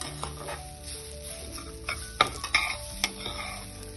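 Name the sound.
stirring and roasting semolina with grated coconut in a pan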